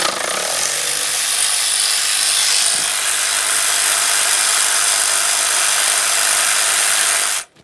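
A power tool on a Ford F-150 3.5L V6 removing an intake mounting bolt, one continuous loud whirring buzz held for about seven seconds before cutting off abruptly.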